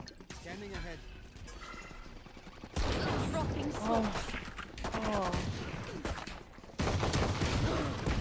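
Rapid bursts of rifle fire in the Valorant game crackle in short volleys, fairly loud and punctuated by quieter gaps, with a voice talking throughout.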